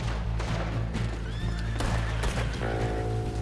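A horse whinnies loudly over steady low rumbling and hoofbeats, with Red Dead Redemption 2 game ambience underneath.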